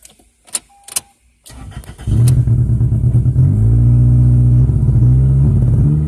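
A 2002 Toyota Corolla LE with a bad motor clicks and cranks briefly, then catches and runs loud and steady close by, its rough idle droning with uneven pulsing throughout.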